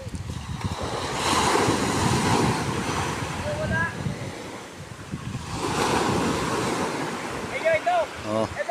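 Surf breaks and washes along a beach at sea in swelling, rolling surges, with steady wind buffeting the microphone throughout and a few faint whistling tones near the end.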